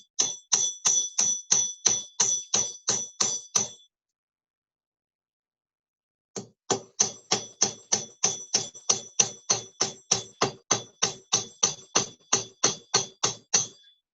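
Sharp hammer blows on a coin being forged into a ring ring out in a steady, rapid series, about ten strikes, a pause of a few seconds, then a longer run of roughly twenty more even, close, ringing taps.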